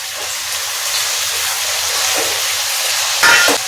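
Tomatoes and mint fry in a hot pan for khushka rice, making a loud, steady hiss that runs throughout, with a brief surge of crackling near the end and no voices.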